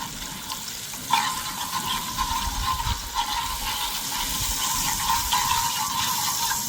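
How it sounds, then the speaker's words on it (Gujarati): Water pours steadily into a pot of gravy for a royal lajiz dish, a continuous splashing gush lasting several seconds, close and moderately loud with no talk over it. "તો આપણે આમાં નાખી દઈશું થોડુંક પાણી"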